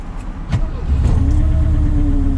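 Supercharged Chevrolet Chevette 1.4 engine, fed by a Fiesta supercharger, revs up from idle into a loud, sustained rising drone, heard close with no talking.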